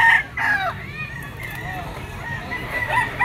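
A yellow-legged Henny bull stag rooster crows nearby at a pet market, a loud hoarse call with clucks and overlapping crowing from other fowl, faint voices in the background.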